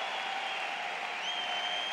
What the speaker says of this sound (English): That's as big a roar as we've had all night